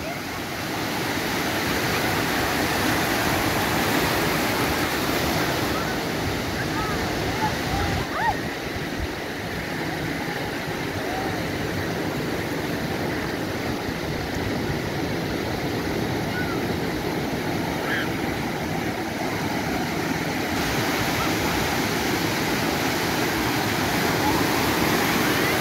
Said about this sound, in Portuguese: Aquele famoso barulhinho do mar.